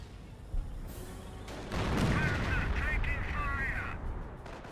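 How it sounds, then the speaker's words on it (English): Artillery shell hit in the World War II strategy game Company of Heroes, a heavy booming impact swelling over battlefield noise, with rumbling and crackling debris trailing off. "And there's artillery hit there."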